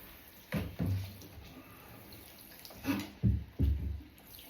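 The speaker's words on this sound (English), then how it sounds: "Just rinse the bath while I'm doing it." Water rinsing around a bathtub during a dog's bath at home, with several soft splashy bursts and sloshes over a faint background hiss.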